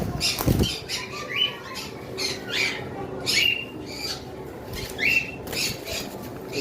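A caged breeding pair of birds gives repeated sharp squawking calls at roughly one-second intervals, mixed with bursts of wing flapping and rustling, close by and without speech.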